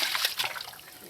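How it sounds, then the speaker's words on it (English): A bucket of water dumped onto a campfire at a campsite makes a quick, close splash and spatter that fades within about a second. "Bucket of water."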